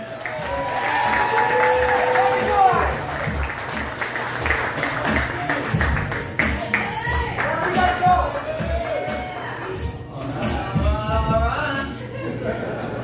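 A comedy club crowd at an Improv showcase claps and cheers as a comedian is brought up, a broad wash of applause under an emcee's amplified voice and background music.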